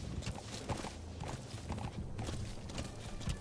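D-Horse's hooves clip-clop in a quick, steady walking rhythm in Metal Gear Solid V: The Phantom Pain, close and continuous under a faint game background, with no talk.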